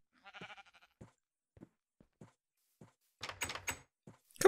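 Minecraft sheep give a short bleat, followed by a series of quiet blocky in-game footsteps and clicks, then a louder burst of bleats and bleating near the end.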